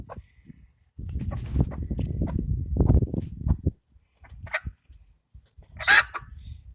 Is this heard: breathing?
no